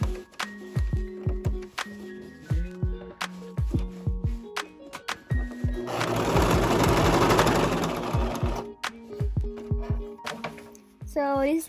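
A sewing machine stitches rigilene boning onto old denim jeans for a reversible bustier, running in short rhythmic bursts of rapid needle clatter, with a longer stretch of rustling fabric handling in the middle and a brief whirring slide at the end.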